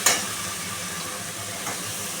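Spice paste made with boiled ingredients frying in oil in a pan while being stirred, a steady broadband sizzle with a couple of brief scraping stir accents, close and continuous.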